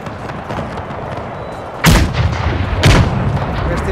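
Howitzers fire in a Napoleon: Total War battle set in the 1833 Carlist War at Huesca, two loud booming cannon shots about a second apart over a busy battlefield din.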